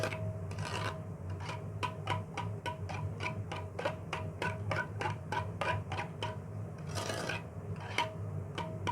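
A spoon stirs finely chopped coriander and mint into yogurt raita in a bowl, making a repeated rhythmic scraping and tapping, close up and moderately quiet, with no talking.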